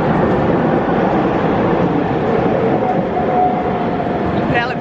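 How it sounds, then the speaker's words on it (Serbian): A noisy tram passes on a Zagreb street, a loud, continuous rumbling drone that holds steady throughout. "Prelep je bučni tramvaj."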